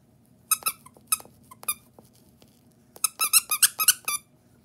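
An Among Us plush toy squeaks in quick bursts, with several sharp squeezes early on and then a faster run of squeaks, close and fairly loud over a low background hum.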